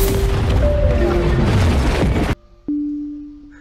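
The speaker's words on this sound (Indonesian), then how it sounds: "Tepat setelahnya, Newt pun meledak." A film explosion as a character blows up: a loud, dense broadband blast lasting about two seconds, then a sudden cut to near silence followed by a sustained ringing tone.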